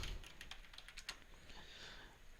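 A short flurry of keystrokes on a computer keyboard, quick light clicks in an uneven rhythm, faint and close, with no voices.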